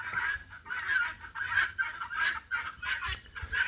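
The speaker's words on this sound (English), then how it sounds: "Yeah, these birds get loud and annoying." A flock of turkeys and other fowl calling noisily, with repeated loud gobbles and clucks in an uneven rhythm, close by and without talk.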